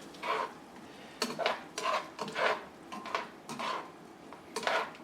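Parmesan cheese is stirred into a shrimp garlic butter sauce in a pan, with rhythmic scraping and clinking of a utensil against the pan in close bursts and a faint sizzle underneath.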